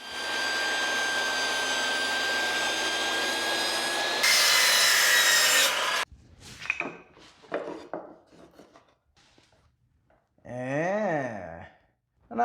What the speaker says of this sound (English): And let's go ahead and cut these pieces.